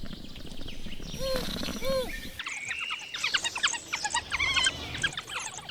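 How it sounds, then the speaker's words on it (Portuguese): Wild dog pups squealing and chirping in high, excited bursts, a dense chorus of squeaks and yelps at close range with no speech. "Gritos de alegria ecoam enquanto os filhotes correm para recebê-los."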